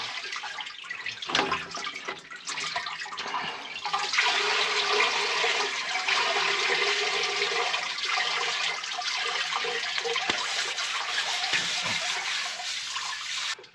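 Transmission fluid draining from the rear plug of a VW Bug's frozen, cracked transmission, a steady splashing, trickling pour that runs continuously and fairly quietly with no talk.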